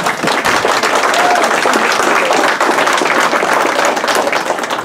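A crowd at the Champlain Fire Department banquet breaks into steady, dense applause, many hands clapping at once in a close, loud, continuous wash with no talk over it.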